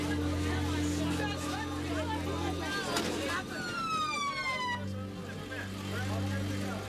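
Ambulance siren wailing in the streets of West Point, a rising and falling electronic tone with a vehicle engine hum, moderately close, with speech running over it.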